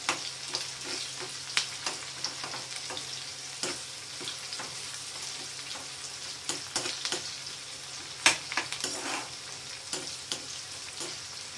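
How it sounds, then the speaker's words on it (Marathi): Onions fry in a pan for Maharashtrian pithla, a constant soft sizzle under frequent clicks and scrapes as a spoon stirs them, heard close with no one speaking. "कांदे थोडे कलर बदलेपर्यंत थोडेसे आपण हे करून घेणार आहे"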